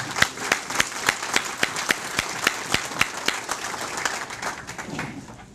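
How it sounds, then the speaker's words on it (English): Applause from a seated audience at an American Legion community service awards evening, with sharp individual claps standing out in a steady rhythm before thinning toward the end. "I'd like to give each and every one of you an applause"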